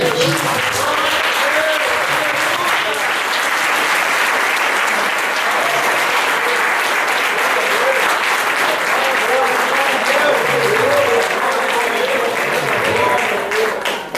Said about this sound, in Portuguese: Palmas a Jesus.